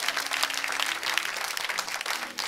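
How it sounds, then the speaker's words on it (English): A church congregation claps together in a collective round of applause during a sermon, the dense clapping fairly distant and reverberant, with a faint sustained tone or hum running beneath it. "give heaven a collective applause."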